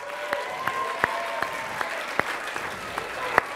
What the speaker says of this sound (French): Nous pouvons applaudir encore une fois le groupe Hip Europe